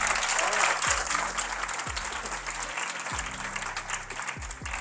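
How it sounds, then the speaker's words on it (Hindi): A seated audience at a poetry gathering gives a burst of applause: dense, continuous clapping at a steady level, with a few dull low thumps in between. "तालियां"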